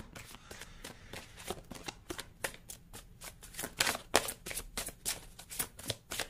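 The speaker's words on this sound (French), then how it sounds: "déjà on va faire une coupe et ensuite on prendra 3 cartes" An oracle card deck is cut and shuffled by hand, with a steady run of crisp, close riffling card flicks that swell louder toward the middle and keep going to the end.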